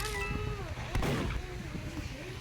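One sharp, booming gunshot rings out in a video game, a single heavy blast near the middle, while a person keeps talking over the game's sounds.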